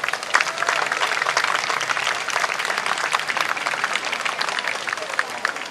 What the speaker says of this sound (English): everyone who made this day possible a round of applause?